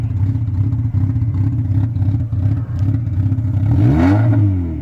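A Mazda Miata engine held in first gear, droning loudly and steadily with harmonic tones that swoop up and down as the revs rise near the end, close and alone without talk.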